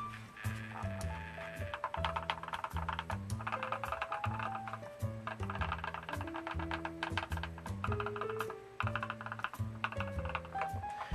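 Typing on a stock Kchibo NJ63Pro wireless 60% mechanical keyboard, a close, crisp run of rapid keystrokes with a steady clacky rhythm and occasional heavier key thocks, heard alone without talk.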